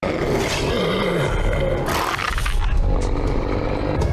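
A giant wolf in the film 300 gives a deep, rumbling growl and snarl, a loud, continuous roar over the movie soundtrack that swells midway.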